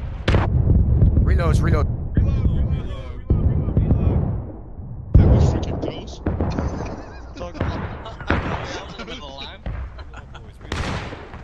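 Musket volleys in the video game War of Rights, a large-scale 300-player battle: heavy booming gunfire and distant rolling shots layered over shouted commands and talk.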